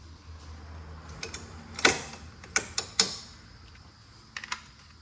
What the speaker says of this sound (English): Remove 10mm bolt,